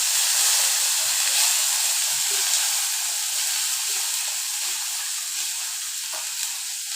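Crushed ginger, garlic and green chilli sizzle in hot oil with a loud, continuous hiss that fades slightly toward the end, with small stirring clicks.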